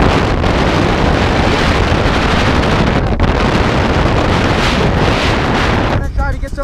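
Strong desert wind buffets the microphone in a loud, continuous roar that barely varies, easing slightly only in the final moment.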